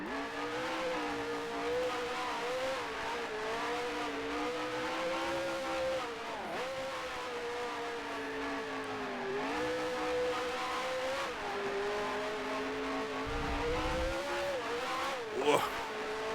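Race car engine in the GPL racing video game holds a steady, loud drone that rises and falls with revving and gear changes, with a brief tire squeal near the end and no talk over it.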